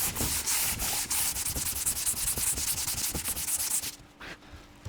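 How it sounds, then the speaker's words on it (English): 80 grit sandpaper is rubbed by hand across a panel in light cross-hatch scuffing strokes, a rapid rhythmic scratchy rasping up close that stops abruptly near the end. "Get it pretty perfect to your panel, and then just do your scuffing lightly."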